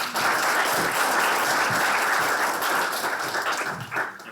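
A room of audience members applauds steadily for an evening panel moderator at a public forum on affordable housing, the dense clapping holding even and loud before thinning slightly toward the end.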